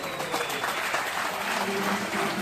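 A crowd applauds at an awards event honouring top achievers: a brief, thick wash of many hands clapping together, loud and unbroken from start to finish.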